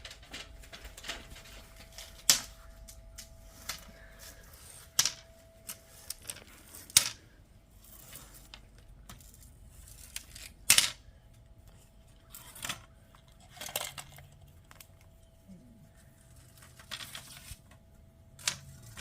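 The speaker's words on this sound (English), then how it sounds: "now I'm just cutting off the excess screen" Scissors trimming excess window screen mesh after new spline has been pressed into the frame groove, heard as sparse, close snips and clicks spread irregularly over a quiet background.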